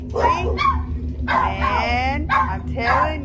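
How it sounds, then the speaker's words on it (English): Several dogs bark and yip in a house, close and loud, in a few short bursts with whimpering tones. Someone talks throughout underneath them. "Ignore my dogs."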